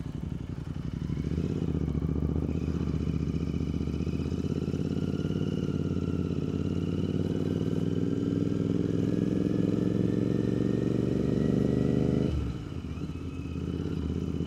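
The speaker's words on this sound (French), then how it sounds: "Allez, mes premiers tours de roue sur un side." A Royal Enfield Continental GT 650 motorcycle fitted with a Watsonian sidecar rides slowly, its engine droning steadily close by for about twelve seconds before easing off near the end.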